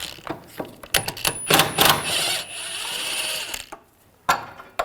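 Ratchet wrench with a 13mm socket working a nut loose on a 2007-2013 BMW 328i during a rear wheel bearing job, giving bursts of close metallic clicking that start and stop, with some gaps of quiet.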